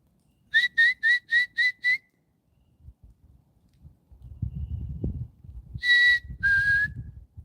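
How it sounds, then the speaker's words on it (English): Birds in woodland near a cemetery, a bird giving a quick run of six clear whistled notes, then two more calls later over low rustling and footsteps. "You can hear the birdies."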